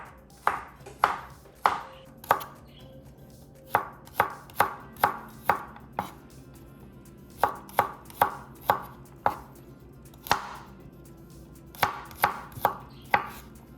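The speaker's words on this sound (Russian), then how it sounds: "Чеснок не давлю, а просто достаточно крупно нарезаю." A knife coarsely chops garlic on a cutting board in sharp, evenly spaced strikes, about twenty in all, with brief pauses between runs.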